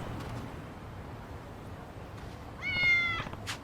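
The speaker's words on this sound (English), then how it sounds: "Kitties, kitties, kitties. Hello, meowsers." Cat in the video game Lost Judgment gives a single clear meow near the end, following quiet ambient game background.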